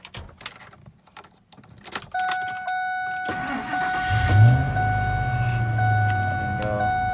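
Keys jangle and tap, then a 2000 Ford F150 truck's ignition chimes before the engine cranks and starts, settling into a steady idle close by.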